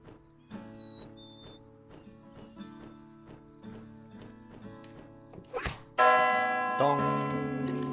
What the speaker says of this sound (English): I can glide to the bell tower.